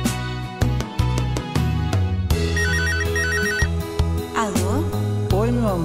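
A telephone ringtone melody chirps in repeated bursts over a backing song with a voice, the electronic ringing pattern sitting fairly loud within the music.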